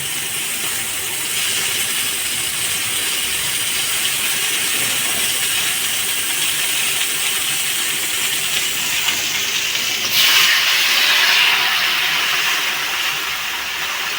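Water hits a hot pan of pointed gourd being cooked with cumin, giving a loud, continuous sizzling hiss that swells sharply near the end before settling back to a steady fry.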